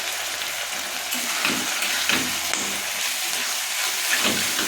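Spice paste of ground cumin, coriander and dried red chilli frying in a hot pan, giving a steady, close sizzling hiss with faint stirring scrapes throughout and no talk.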